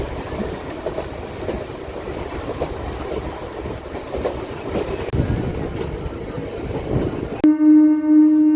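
A MEMU passenger train rolls into Undi station on a sharp curve at slow speed, a steady rumble with faint clickety-clack from the rails, ending in a loud sustained horn blast close by.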